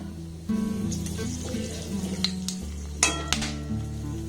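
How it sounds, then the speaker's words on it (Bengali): A clove, a cardamom pod and a cinnamon stick dropped into oil in a kadai, a light sizzle mixed with metallic clinks of pot and utensil, a few sharp knocks near the end, and a faint voice in the background. "কড়ার মধ্যে আমি একটু তেল দিয়ে দিলাম এবার মধ্যে একটা লবঙ্গ একটা এলাচ একটু দারুচিনি স্টিক দিয়ে দিলাম"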